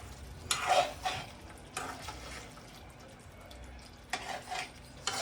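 Masala for fish curry being sautéed in a pan, a soft background sizzle broken by a few short bursts of spatula stirring and scraping, fairly quiet and close, no talking.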